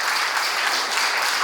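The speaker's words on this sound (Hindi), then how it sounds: "एक बार मेरे साथ बहुत जोरदार तालियों से उनका अभिनंदन करिए" Dense, steady applause from an audience greeting a book's author at a launch event, a continuous close wash of clapping with no voices over it.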